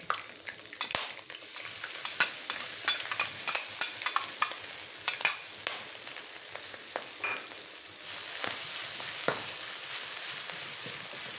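Chilies stir-fried in a little oil for a spicy beef holy-basil dish: a soft, steady sizzle broken by a regular run of spatula scrapes and clicks against the pan, fairly faint and without talk.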